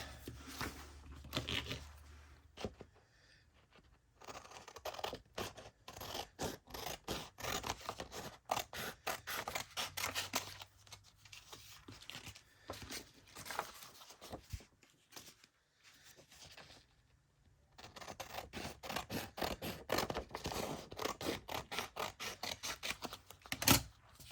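Scissors trim paper for handmade eclectic tags, a close run of quick crisp snips and scrapes in bursts with brief pauses between them.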